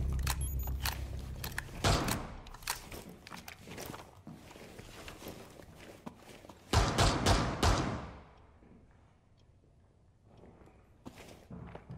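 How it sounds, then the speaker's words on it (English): Magazine swap during a reload in Rainbow Six Siege, a series of close metallic clicks, clacks and thumps in quick succession, with a louder cluster of handling noises near the end before it quiets. "Changing mags."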